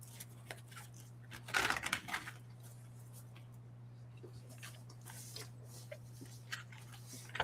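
Soft papery rustles and taps of tarot cards being shuffled, a louder burst early then scattered light flicks over a steady low hum.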